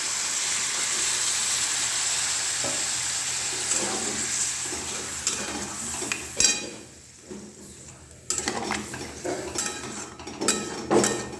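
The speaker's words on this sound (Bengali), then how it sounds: "এরকম জল দিচ্ছি।" Water poured into a pan of frying kohlrabi brings hissing sizzle that fades, followed by scattered clinks and scrapes of utensils against the pan, moderately quiet and close.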